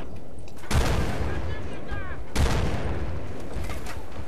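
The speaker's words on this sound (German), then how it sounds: "wir werden beschossen von irgendwann" Gunfire rings out in a Battlefield Bad Company 2 multiplayer match. Two heavy, distinct bursts land about a second and a half apart over a constant battle rumble, and players talk briefly between them.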